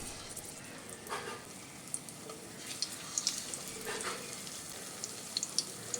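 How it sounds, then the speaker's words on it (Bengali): Batter-coated paneer pieces fry in hot white oil, a soft steady sizzle with scattered crackles and small pops, fairly faint and close, with no talking. "এবার আমি পনিরের মধ্যে ব্যাটারটা লাগিয়ে নিয়ে পনিরগুলো"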